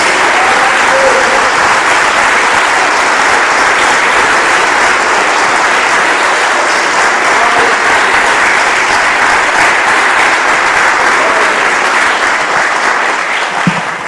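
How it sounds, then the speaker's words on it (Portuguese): A large church congregation claps loudly and continuously, a dense, sustained wash of applause that holds steady before tapering slightly at the end. "Dê uma salva de palmas a Jesus."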